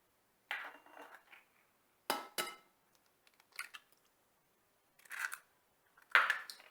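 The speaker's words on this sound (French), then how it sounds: "nous allons casser nos 2 œufs dans le plat" Two eggs cracked into a dish for pancake batter: several short, sharp taps and cracks separated by silence, close and fairly quiet, no talking.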